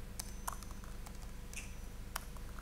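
Soft, sparse keystrokes on a computer keyboard tap out a few scattered clicks, quiet and close over a low steady hum, with no talking.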